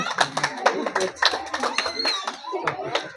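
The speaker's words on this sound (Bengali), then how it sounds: "হাততালি দাও জোরে" Several people clap in quick, uneven bursts at a ring-toss prize game, with voices talking over the applause.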